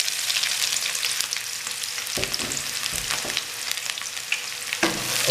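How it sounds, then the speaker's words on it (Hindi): A medium-sized onion frying in hot oil, heard as a dense, steady sizzle close up, with several soft stirring scrapes and knocks breaking in along the way. "अब इसमें एक मीडियम साइज़ का प्याज है, ये डालेंगे।"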